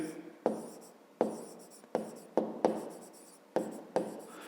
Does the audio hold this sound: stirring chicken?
no